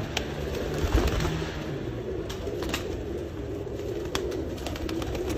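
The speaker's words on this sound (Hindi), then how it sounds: "रिजल्ट वाले टेडी कबूतर।" Soft teddy pigeon coos over a steady background hum, low and repeated, with faint clicks and movement nearby.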